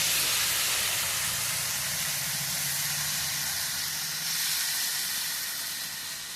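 Meat hits a hot pan with a loud, broad sizzle that hisses steadily and then eases slightly over several seconds.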